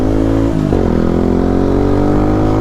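A Zontes 125 motorcycle's engine runs steady and close, with a brief rev change near the start, then holds a constant droning note throughout.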